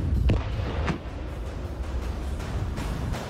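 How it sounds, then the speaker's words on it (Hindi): A deep, heavy blast booms and rumbles at the start as an unexploded Russian bomb is detonated in Kyiv, followed by a sustained low roar of debris and echo fading slowly. "कीव में यूक्रेन की इमरजेंसी सर्विस ने रूस के एक जिंदा बम को धमाका कर नाकाम कर दिया।"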